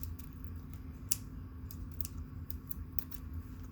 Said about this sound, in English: I cut a little slit at the end of my ribbon